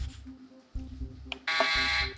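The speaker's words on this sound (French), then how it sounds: "Buzzer, Béatrice." Game show contestant's buzzer on a French quiz program, a sustained bright electronic buzz lasting under a second near the end, following a short click, over a low studio hum and background tones.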